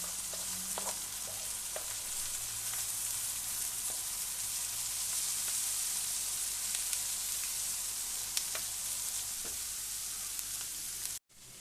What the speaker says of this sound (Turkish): Bunu iyice karıştırıyorum.